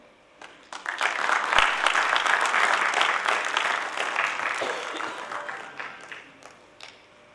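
A conference audience at a library association felicitation program in Ajmer, Rajasthan breaks into sustained applause, swelling quickly, holding for several seconds and then thinning out with scattered claps.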